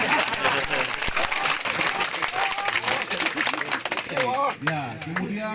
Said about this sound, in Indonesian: Tepuk tangan yang belum beruntung.